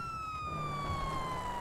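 Police siren wailing in a GTA SpainRP roleplay game, a steady high tone gliding slowly downward, moderately loud and continuous over low engine rumble.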